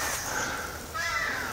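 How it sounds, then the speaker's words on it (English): Crows caw in a wilderness high meadow with big trees and open spaces, giving a couple of harsh, hoarse calls at moderate distance over steady outdoor ambience. "The crows are part of the soundtrack around here."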